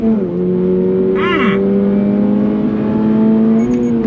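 A 2024 Subaru BRZ tS with a 6-speed manual accelerating in 2nd gear, its engine note droning loud and steady with a rising pitch, heard from inside the cabin.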